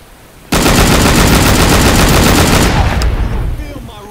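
Sustained automatic gunfire from the video game Scarface: The World is Yours, bursting in loud and abrupt after a quiet start, a dense rapid rattle lasting about three seconds before easing off.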